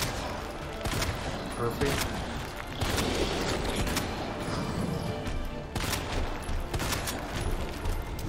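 Rapid gunfire in the Resident Evil 2 video game, a burst of several sharp shots amid game noise, with players talking over it.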